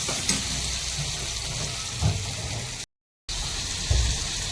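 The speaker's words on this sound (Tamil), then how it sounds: "தக்காளியும் தேவையான அளவு பச்சை மிளகாயும் போட்டு நல்லா வதக்குவோம்" Tomatoes and green chillies sautéing in a pan for egg biryani, a steady close sizzle with a few soft stirring scrapes, briefly cut to silence midway.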